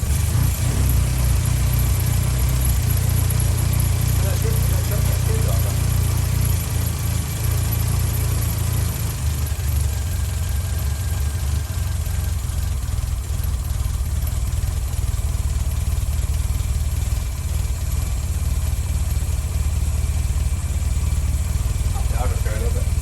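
A classic Mini engine runs in a workshop with the choke on, settling into a steady, loud, close idle that continues without a break.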